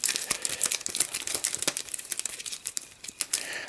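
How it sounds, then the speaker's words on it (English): Cardboard game cards from a print-and-play deck are shuffled up close, a stream of quick crisp riffling and rustling clicks. "you're going to take these event cards, you're going to give them a shuffle, make sure they're thoroughly mixed"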